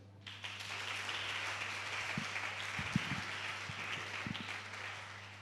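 A church congregation applauding, a dense sustained wash of clapping from many hands at a moderate distance, steady throughout with a steady low hum underneath and no speech.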